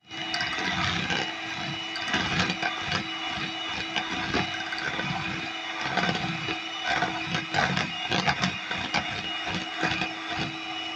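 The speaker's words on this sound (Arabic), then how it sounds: "وابتدي ان انا اجيب بقى بياض البيض، وهضرب بيه بالمضرب الكهربائي لغايه ما يبقى فوم معايا" An electric mixer whips egg whites into foam for a flourless cake, giving a loud, steady motor whir with a rattling beater texture that runs nonstop and close.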